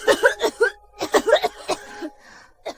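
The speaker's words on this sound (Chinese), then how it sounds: "听着咳嗽声，不是疟疾。" A sick child coughs in short bursts, several small rough coughs in two clusters, close and fairly loud, with a faint breathy sound at the end.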